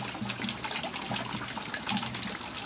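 Rainwater pours off gutters that sit out of line with the house and splashes onto a porch, a steady close rushing and spattering of water with no pause throughout.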